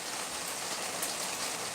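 Steady rain pattering on surfaces in Nashville, a dense, even hiss with no voices.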